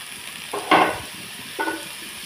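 Chopped potatoes frying in a pan, a soft background sizzle broken by three quick scraping stirs, the middle one loudest.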